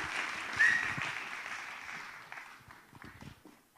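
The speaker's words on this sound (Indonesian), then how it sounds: "Boleh kita berikan tepuk tangan sekali lagi" Soft, diffuse applause from a seated audience of university students at a panel discussion, close to steady at first and then gradually thinning and fading out.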